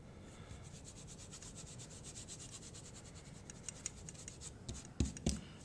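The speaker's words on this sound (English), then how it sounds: "I'm going to erase this one more time" An eraser wipes writing off a board during a math worksheet walkthrough, with steady, rapid back-and-forth rubbing strokes, fairly quiet and close, ending with a couple of sharper bumps. No one speaks.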